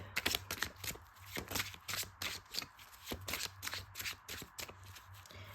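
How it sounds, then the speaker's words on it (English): Cards are shuffled and drawn for a card reading. Quick riffling bursts repeat at a steady pace, close up and fairly quiet. "Three cards for Emma Laird"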